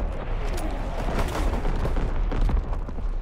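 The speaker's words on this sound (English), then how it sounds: "Incoming enemy artillery. Get to cover." Enemy artillery fire in the WWII shooter Call of Duty WWII, a continuous dense rumble of booms and blasts filling the scene without pause, loud and close throughout.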